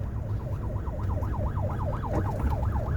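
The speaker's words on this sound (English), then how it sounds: "There's an ambulance coming now." An ambulance siren warbles rapidly up and down, fairly loud, over low traffic rumble, approaching.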